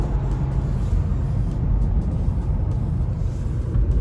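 A 2017 Honda Accord Coupe V6 in sport mode accelerates hard, a loud steady low engine rumble mixed with road and cabin noise, heard from inside the car and continuous throughout.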